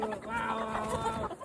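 Meat chickens cluck at bedtime in a coop, a short close burst of busy overlapping clucks and fowl calls.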